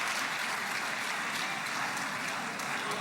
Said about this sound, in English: That's him applauding as the protester was ushered out of the hall.